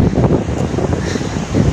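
Outdoor wind blowing on a walk along a shortcut before rain, rushing and buffeting against the microphone in uneven gusts, with no voices.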